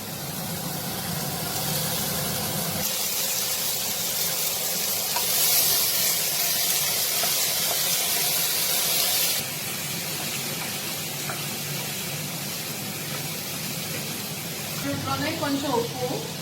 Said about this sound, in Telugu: సో ఆయిల్ వేడయ్యాక బీట్రూట్ ముక్కలు దాంట్లో వేసుకోవాలి.